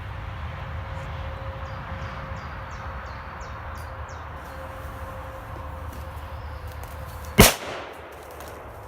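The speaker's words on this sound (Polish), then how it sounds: "Petardka kontra plastikowa butelka." A Mefisto Manna MA2 firecracker explodes against a plastic bottle outdoors, one sharp loud bang near the end after a stretch of quiet ambient hum and faint ticking.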